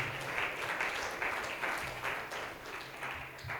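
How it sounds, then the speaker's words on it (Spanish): A church congregation applauds, steady rhythmic clapping from many hands throughout, moderately loud and sustained with no break. "Dale fuertes palmas de alabanza al Señor Todopoderoso"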